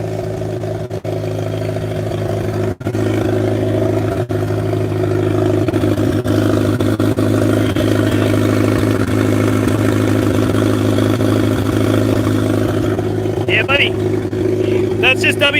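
A turbocharged Suzuki GSX engine runs at its first start after four years of work, holding a loud, even droning idle for a long stretch with faint voices in the background.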